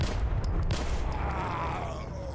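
Rapid gunfire from hollow point rounds in the video game S.T.A.L.K.E.R. Gamma, a dense burst of close, loud shots running continuously for about two seconds.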